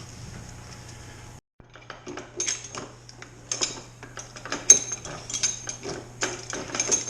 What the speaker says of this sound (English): So this is the second pressing of the grapes.